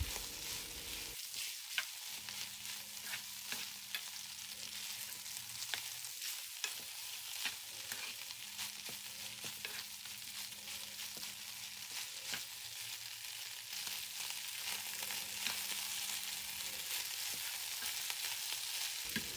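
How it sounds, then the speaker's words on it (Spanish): Shell pasta is stirred into fried ground beef in a pan, giving a steady low sizzle with repeated scraping strokes of a spoon against the pan over about twenty seconds. "Enseguida voy a agregar la pasta y la voy a incorporar con la carne molida"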